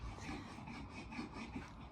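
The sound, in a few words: husband sawing wood in the shed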